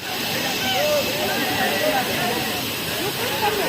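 Waterfall on an outdoor trip in Chikkamangaluru, a steady loud hissing rush of falling water filling the scene, with voices talking over it.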